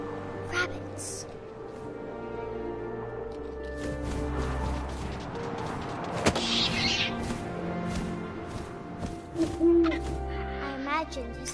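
An owl hoots in the video game Edith Finch amid soft wind and ambient game sounds, with a narrating voice speaking over the scene.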